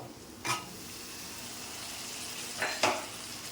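Fish curry of tilapia being stirred in a pan with spices, a steady low sizzle broken by a few clear scraping stirs near the start and end, close and moderately quiet.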